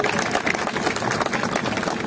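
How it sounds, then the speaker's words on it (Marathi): A crowd claps loudly and continuously at an Adivasi cultural festival held by the Thakur community. It comes across as a thick, unbroken wash of hands beating together. "जोरदार टाळ्या वाजवायच्या"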